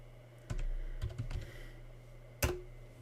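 A password typed on a computer keyboard: a handful of sharp, isolated key clicks in an irregular rhythm, close and quiet, ending with one firmer keystroke.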